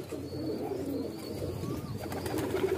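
A pigeon kept for breeding coos softly nearby, with repeated low, rolling calls over faint background chatter of other birds.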